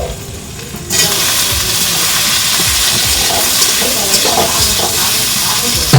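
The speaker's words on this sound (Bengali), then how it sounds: "আলুটা দিয়ে দিলাম, আলুটা দিয়ে আলু আর মশলা একসঙ্গে আলুগুলো কষিয়ে নেবো মশলা টশলা দিয়ে।" Boiled potatoes go into a hot pan with spices and are stirred while frying, giving a loud, steady sizzle and hiss that starts abruptly and holds throughout with faint scraping.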